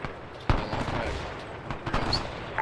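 Gunfire at a tank in Arma 3, a sharp close shot followed by a rattle of distant bursts and scattered cracks over a short stretch.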